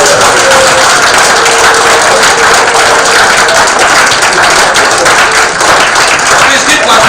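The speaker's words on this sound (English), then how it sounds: "I call upon you today to please appreciate yourself by clapping" Conference audience clapping at a professional ethics and patient care event, a dense, steady wash of many hands that stays loud and continuous from start to end.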